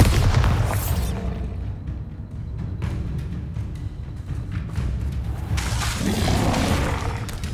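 The Bombarda explosion spell goes off in the video game Hogwarts Legacy, with a booming burst and whooshing blast effects over a continuous game soundscape.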